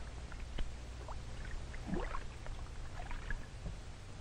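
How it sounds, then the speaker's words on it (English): An elephant draws water up its trunk and drinks, giving soft irregular slurping and splashing over a low background rumble, close and fairly quiet. "She first sucks the water up into her trunk and then blows it into her mouth."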